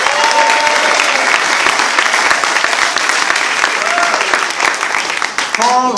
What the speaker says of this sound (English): Another round of applause for Assemblyman Jeff Dinowitz.